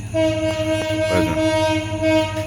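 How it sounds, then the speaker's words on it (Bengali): A train pulls into a station, loud and close, its horn holding a steady tone over a low rumbling engine and rattling carriages, and no one speaks. "এই যে ট্রেন ইন হইতেছে"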